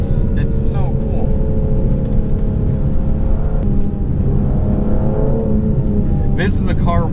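A 2025 Aston Martin Vanquish engine in Sport mode on a canyon road, pulling hard with a rising and falling tone under steady cabin drone, while a voice talks over it.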